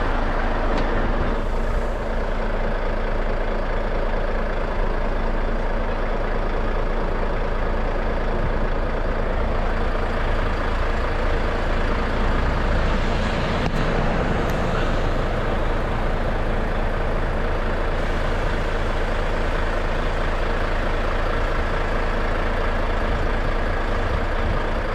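An HGV truck reversing to couple up to a trailer after dropping the fifth wheel and tag axle: a loud, steady diesel engine rumble throughout, with brief air hisses along the way.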